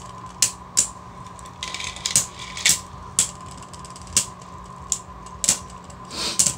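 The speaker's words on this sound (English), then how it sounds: "both of the drivers are like scraping against the ridge over there. They're like you can hear them scraping." Metal-driver Beyblades grinding and scraping against the stadium ridge during a Beyblade Burst battle, giving irregular sharp clicks and rasping bursts over a faint steady hum, close and fairly quiet, with no voices.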